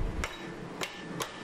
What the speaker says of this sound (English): precise hits with the hammer.